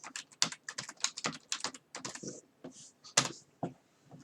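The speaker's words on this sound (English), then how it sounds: "if you type into the search bar on the top of the corner here" Rapid, uneven keystrokes on a computer keyboard while typing into a website's search bar, close and clear, with short pauses between bursts and no talking.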